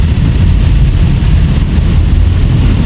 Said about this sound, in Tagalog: Umuulan pa rin. Yung ulan na hindi siya tumitigil.